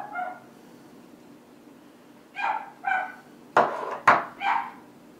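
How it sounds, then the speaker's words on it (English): A pet dog barking indoors in a home, a few separate barks spaced apart with two sharper louder ones near the end, fairly close over a quiet room hum. "Sorry if you can hear my dog barking."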